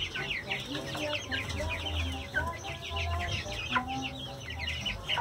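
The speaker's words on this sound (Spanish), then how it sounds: "Y ahí tenemos los pollos." Chickens raised for meat and organic egg-laying hens at a farm cluck and chatter repeatedly in quick bursts, fairly close, with a low background hum and no clear speech.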